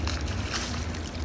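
Small boat paddled through water, a brief, close wash of water and wind rumble without clear separate strokes.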